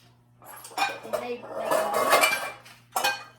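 Sturdy metal pots and pans of assorted sizes, hung on a zoo animal enrichment mobile, clank and clatter close by in several loud bursts, with a final short clash.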